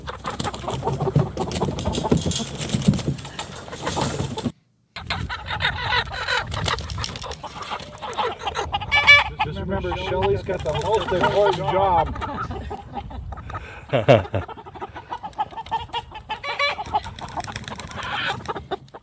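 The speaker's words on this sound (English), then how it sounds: "So they actually had 25 chickens that they had to move" A flock of chickens clucks and squawks steadily outdoors while people talk over them, with a brief dropout early on.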